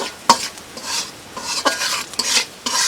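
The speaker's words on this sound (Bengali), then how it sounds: "এইভাবে আমি বেশ কিছুক্ষণ গরম তেলের সঙ্গে শুকনো মশলার উপকরণগুলো বেঁধে নিচ্ছি" Dry spices frying in hot oil in a pan, with salt added for a Pangas fish and papaya curry, stirred in repeated scraping strokes over a steady close sizzle.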